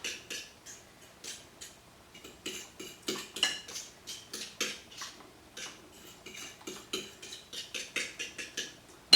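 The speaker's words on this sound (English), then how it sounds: "just take the egg and buttermilk and just stir it up real good" A fork or whisk stirs egg and buttermilk in a bowl, quiet rhythmic scraping and clinking strokes in irregular bursts, close and fairly faint, with no speech.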